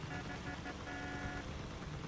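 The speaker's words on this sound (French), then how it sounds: "Coup de klaxon." Car horn honking in the vehicle-combat video game Crossout, a sustained steady tone from about 0.2 to 1.4 seconds over continuous engine and game noise.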